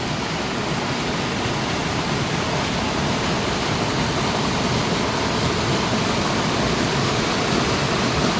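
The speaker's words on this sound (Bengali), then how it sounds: "পানিটা উপর থেকে পড়তেছে, আর এই যে ঝর্ণা" Adhuri waterfall in the Jaintia hills of Sylhet, swollen after rain, drops from a height with a continuous, full roar of rushing water that never lets up, with no voices.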